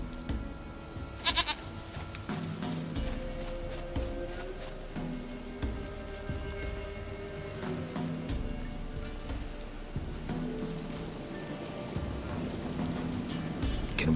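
A goat in The Witcher 3 video game bleats several times over a steady background of rain and ambient noise, the calls moderately close and spaced irregularly.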